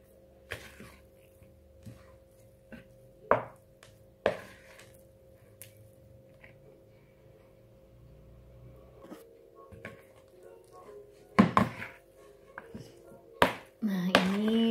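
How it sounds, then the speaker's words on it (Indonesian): Bread dough for a whole-wheat loaf being stirred in a bowl, heard as sparse soft scrapes and a few sharp clinks of the utensil against the bowl, with quiet gaps between them and a louder run of knocks near the end. "Nah ini diaduk aja sampai gini, sampai teraduk rata."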